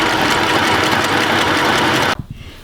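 A sewing machine stitching a seam forwards and backwards on a top made from recycled fabric, a loud close mechanical whirring that runs steadily for about two seconds, then stops with a couple of small clicks.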